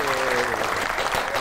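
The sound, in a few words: studio audience applause welcoming a guest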